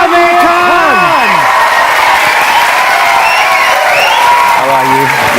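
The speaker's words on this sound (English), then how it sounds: "a warm round of applause for Mr. Aamir Khan" Loud audience applause and cheering greet film star Aamir Khan at a live conversation event, with continuous dense clapping, whoops and shouted voices mixed in throughout.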